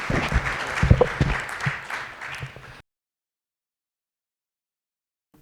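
Applause from a lecture audience greets Piotr and his group, a few seconds of scattered clapping that stops abruptly into silence.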